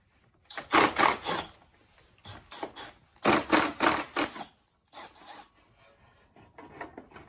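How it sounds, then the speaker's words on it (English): Plastic coolant tank cover on a 2015-or-newer Ford F150 being slipped into place: repeated close scraping and rubbing bursts in uneven clusters, separated by brief quiet gaps. "we can slip the cover on"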